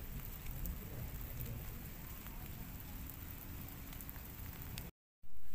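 Steady rain falls over the rocky outdoor Stone Garden in Bandung, a dense, even hiss of drops that stays loud and unbroken for several seconds before a brief dropout.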